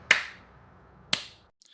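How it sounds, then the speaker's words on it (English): Two sharp hand claps ring out about a second apart in a quiet room, each a crisp isolated crack with a short decay, the second followed by faint small taps. "Can I do the clap?"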